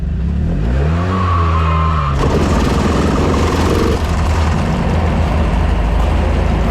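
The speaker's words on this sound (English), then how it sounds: "the car fired up anyways" A new sprint car engine cranks with a rising whine for about two seconds, then catches and fires into a loud, steady, rough roar that continues to the end.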